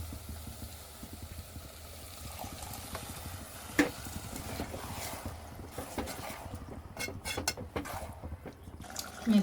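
Tomato juice poured into a simmering brinjal curry, then stirred: liquid splashing and dripping followed by wet, irregular scraping of a spoon in the pot, close and fairly quiet.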